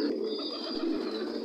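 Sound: pigeons cooing on a pigeon farm

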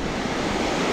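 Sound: ocean waves breaking on the beach

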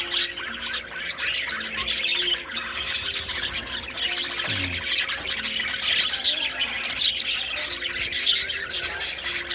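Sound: birds chirping in a home aviary

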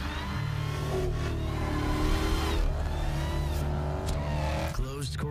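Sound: fast cars revving in a TV commercial

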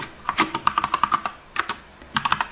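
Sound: typing on a computer keyboard

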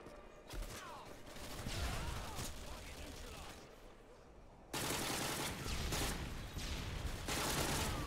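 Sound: AUG rifle gunshots at a shooting range

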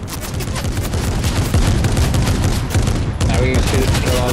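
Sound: gunfire in Fortnite video game

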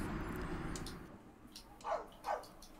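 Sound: dog barking

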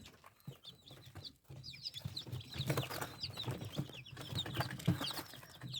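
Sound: hen clucking

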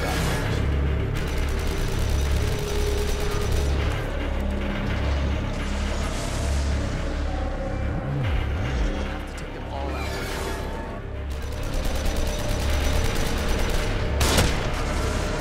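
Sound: enemy gunfire in The Evil Within video game

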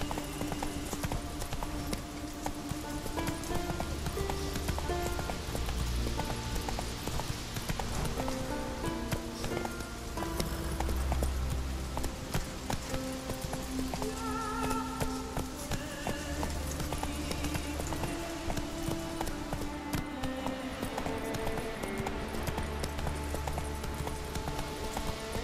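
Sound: horse Roach galloping hoofbeats in video game The Witcher 3

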